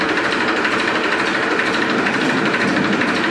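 A lightly used 2018 Massey Ferguson 241 DI tractor engine runs steadily close by with a dense, continuous rattling drone and no talking.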